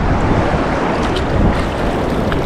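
Ocean waves slap and wash against a small boat at sea, a continuous loud rush of water and wind noise buffeting the microphone without pause.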